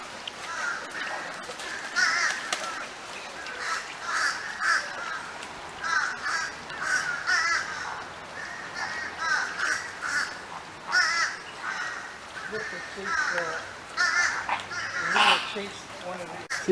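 A flock of flamingos calling together, a dense chorus of nasal honking cries rising and falling continuously, close and loud, with people chatting underneath.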